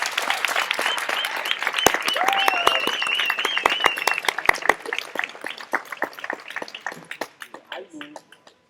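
Audience at a university farewell ceremony applauding the lecturers, a warm sustained burst of clapping with scattered sharp claps and brief whistles, gradually thinning out toward the end.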